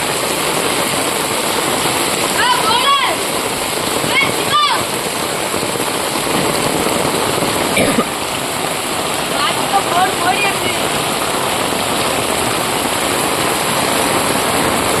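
Heavy rain and swollen floodwater rushing near a bridge in Vagaikulam, Tirunelveli district, producing a loud, continuous roaring wash that persists throughout, with a few faint sharp sounds.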